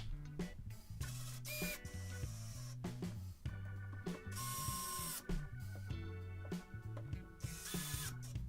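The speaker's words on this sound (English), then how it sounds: "And then drove in the screws." Screws driven into glued wood pieces while making a woodworker's strop, with a power driver whirring and ratcheting in repeated bursts up close, the motor pitch rising and stopping between each screw.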